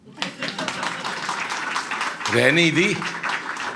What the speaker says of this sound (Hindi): 5-6 लोगों ने ताली बजाई है, रहने दो